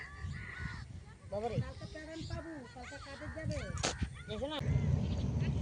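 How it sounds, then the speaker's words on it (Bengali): Crows caw repeatedly around a field, their harsh calls mixed in with someone talking nearby, against steady outdoor background noise. "এই কাকগুলো খুব বিরক্ত করছে ওদের"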